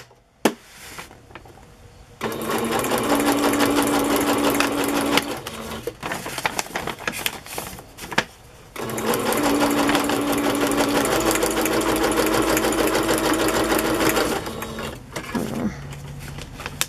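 A sewing machine stitches through a paper craft page in two long runs of fast mechanical whirring and clatter, separated by quiet pauses with small handling clicks.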